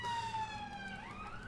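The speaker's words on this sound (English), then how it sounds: "I've got a police car, apparently." A police car siren sounds from outside, a faint, distant wail whose pitch slowly sinks and then climbs again over a steady low background hum.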